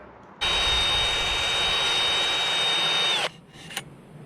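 A drill-driven hone scours corrosion from a brake cylinder bore on a WWII half-track, a loud steady high whine running about three seconds then cutting off, followed by a faint clink.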